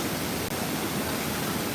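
Steady, dense roar of Bayang Sani waterfall after a big flood, heavy rushing water filling the whole stretch without a break, close and fairly loud with no voices.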